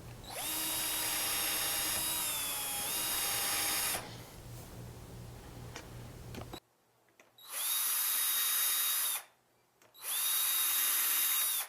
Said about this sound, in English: Use your Vicks bit to pre-drill your holes.